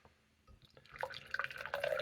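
Guinness Draught and Northern Monk beer are poured from cans together, a quiet start giving way to a growing splashing, bubbly gurgle that stays close and steady.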